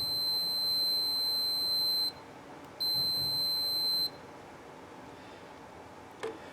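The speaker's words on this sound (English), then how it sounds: "it'll signify that it has a good connection by producing an audible beep" A digital multimeter's continuity beep as the test leads touch together: two steady high-pitched tones, the first about two seconds long and the second shorter after a brief gap, clear and alone.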